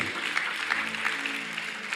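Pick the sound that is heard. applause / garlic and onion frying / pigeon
applause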